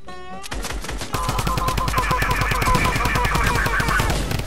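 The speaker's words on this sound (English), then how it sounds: "Why am I getting shot?" Rapid automatic gunfire in the Fortnite Battle Royale video game, a dense run of loud shots that begins after a brief lead-in and continues steadily without pause.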